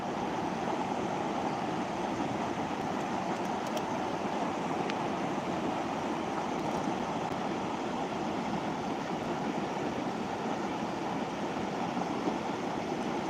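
Water rushing in waves after heavy rain, a dense steady roar throughout with wind buffeting the microphone, loud and continuous.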